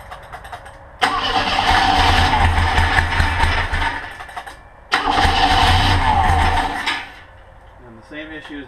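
A Monster Trike's engine cranks loudly and roughly in two long bursts of several seconds each, failing to catch while flooding, with a short pause between them and a voice speaking briefly at the end.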